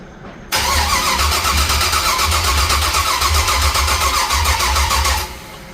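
An LS V8 swapped into an old wagon cranks loudly and close up, with a rapid, even starter churn that runs for about five seconds and then cuts off, without catching.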